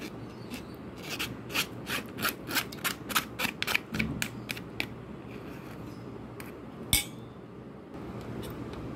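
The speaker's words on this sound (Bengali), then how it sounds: "এখন আমি এই দইটাকে এই পাত্রের মধ্যে পুরোটা ঢেলে নেব।" Thick strained yogurt is scraped and emptied into a bowl, a run of rhythmic, close scraping strokes against the container that thin out into a few scattered knocks, faint and quiet, with no talking.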